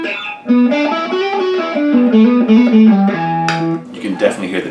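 Distorted electric guitar played through a Boss CE-2 chorus pedal, a sustained melodic line of held notes with a shimmering, swirling warmth, loud and continuous, ending in a brief strummed flourish.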